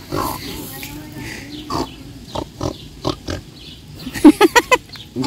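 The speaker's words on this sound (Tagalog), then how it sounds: "Kakausapin daw niya yung pig." A pig on a farm makes a run of short grunting oinks, close and fairly loud, coming in clusters toward the end amid quiet background sounds.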